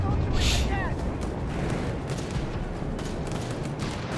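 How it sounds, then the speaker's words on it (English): Heavy battle noise from Company of Heroes 3 fills the scene, with grenade explosions and sustained gunfire rumbling continuously, while a commentator talks over the din. "Grenades exploding, Rangers also exploding under heavy fire"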